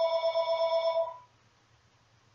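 A telephone rings loud and close for just over a second with a steady bright electronic warble, then cuts to near silence with a low hum, ending in a brief sharp noise.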